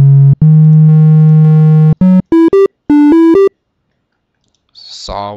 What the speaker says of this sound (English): However, there's triangle waves